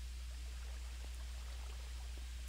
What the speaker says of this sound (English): What's that? Oh, that's water.